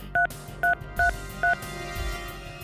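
Four short telephone keypad tones beep in an even sequence on a phone being dialed to call back, each note crisp and close, with quiet room noise between them and no speech.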